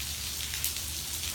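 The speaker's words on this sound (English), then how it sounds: "You and Mikey are checking out the rain together" Steady, dense rain patters on an outdoor surface during a thunderstorm, a continuous close hiss with no voices.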